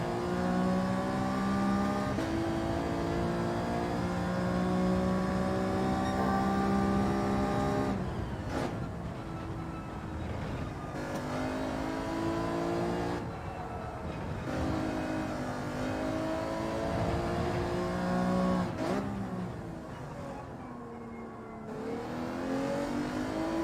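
A race car engine in Gran Turismo 7 revs hard and loud through repeated rising gear pulls, each climb cut by a brief dip at the shift or lift, steady and close throughout.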